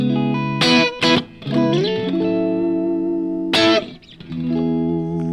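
Clean electric guitar played through a Matchless DC-style amp model, ringing chords and single notes with sustained harmonics and a few sharp strums, loud and close with no other sounds.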